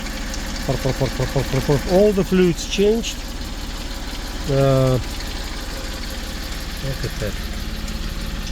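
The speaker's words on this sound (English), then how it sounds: "Here's the engine whispering." A 1998 Mitsubishi MiniCab 4x4 dump truck engine idles with a steady, low, even hum throughout, while someone talks over it at intervals.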